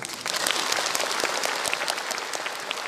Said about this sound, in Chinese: 为我们的乐团请给鼓掌